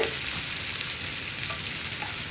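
Sliced onions fry in a pan for a Kerala chickpea roast, sizzling steadily and close with soft stirring scrapes, no voices.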